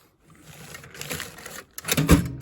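Metal sockets and wrenches clatter and rattle as someone rummages through a tool drawer while working on a 1966 Corvair with four single-barrel carburetors. The close clinking and shuffling runs unsteadily, with a louder burst of jangling near the end.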